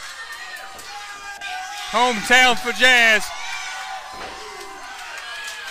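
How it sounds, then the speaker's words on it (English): A wrestling crowd at an independent show in Abbeville cheers and shouts in a large room, a steady roar under a loud announcer's voice, with a sharper burst of yelling midway. "This crowd's going crazy."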